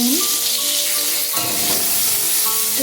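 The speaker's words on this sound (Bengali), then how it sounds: "আলু ভাজার তেলেই ভাপানো ফুলকপিগুলো ভেজে নিচ্ছি।" Steamed cauliflower florets frying in hot oil left from frying potatoes, a steady close sizzle with occasional stirring scrapes, no talking.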